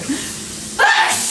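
A single short sneeze, close and sharp, followed by a brief burst of noise.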